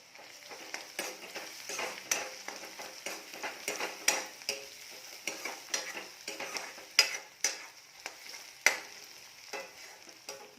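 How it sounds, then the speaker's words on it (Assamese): Garlic and ginger paste frying in a pan for an Assamese pork dish, with steady sizzling broken by repeated scraping stirs of a utensil against the pan, close and fairly loud, no voices. "এয়া এইখিনি এতিয়া অকণমান ভাজিম"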